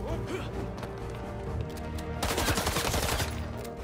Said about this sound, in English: I can't parry gunshots